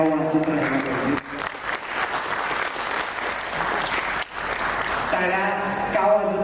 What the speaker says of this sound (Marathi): टाळ्या वाजत राहिल्या पाहिजे.